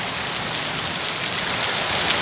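Heavy monsoon rain pours down in Konkan, a dense, steady hiss that holds at an even level throughout, with no voices over it.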